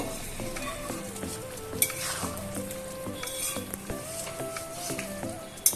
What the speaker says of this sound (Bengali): এবার আমি হালকা করে একটু নাড়ায় নেব